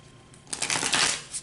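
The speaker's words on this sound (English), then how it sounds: "Let's go ahead and start shuffling." A deck of cards is shuffled close up, a brief burst of rapid riffling flutter that follows a quiet moment.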